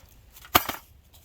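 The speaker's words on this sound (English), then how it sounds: "Andrew's chopping up some wood here for our firebox stove" A single sharp chop of wood being split for a firebox stove at a state park campsite, a close crack with a brief rebound knock amid quiet outdoor background.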